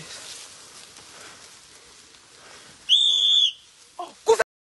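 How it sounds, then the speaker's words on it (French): A whistle is blown in one sustained, shrill blast lasting about half a second, loud and close over faint background noise, followed by a couple of brief sharp knocks. "Ne siffle plus."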